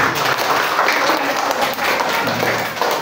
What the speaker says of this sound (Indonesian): coba tepuk tangan yang meriah buat Tuhan Yesus